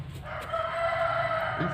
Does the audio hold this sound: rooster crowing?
yes